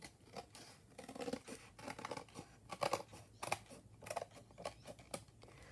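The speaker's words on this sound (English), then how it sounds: "I'm going to trim this down here as well." Paper being trimmed with scissors to make the spine of a Little Golden Book journal: a quick run of close, crisp snips and light paper crinkles, quiet and without speech.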